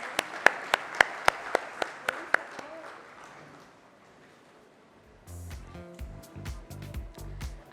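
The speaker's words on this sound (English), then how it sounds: "A huge round of applause for him, please." Sharp, evenly spaced claps ring out at a banking summit as the chief guest is welcomed, about a dozen in quick succession. They fade into a quiet stretch, then a different, fuller sound starts near the end.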